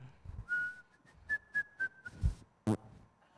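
A person whistles a short tune, a sustained note followed by a few higher notes, close and fairly quiet, with soft breathy sounds between.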